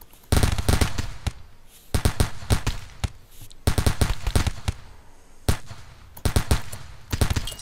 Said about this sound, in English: This is a grenade coming.